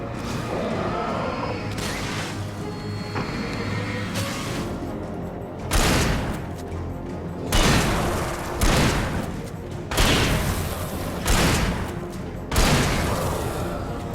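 Shotgun blasts in the horror game Alan Wake, about six loud booming shots spaced a second or so apart after a stretch of rumbling, clattering game action.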